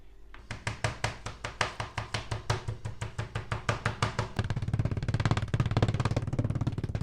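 Pieces of chicken breast for chicken Kiev are pounded flat in a fast, steady run of close, sharp thumps, about four per second, followed by a denser, rougher stretch of rapid blows.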